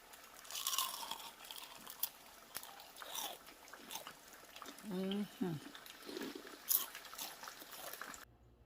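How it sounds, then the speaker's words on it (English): Crisp crunching bites of crispy fried chicken fingers under a voice talking in the background, with a few louder chewing crunches clustered in the middle. "Just want you to hear the crunch."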